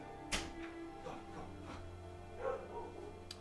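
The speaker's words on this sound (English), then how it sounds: "Oh, she's barking again." A dog barks a few sharp, scattered times indoors, faint and intermittent, with some soft whimpering yips between.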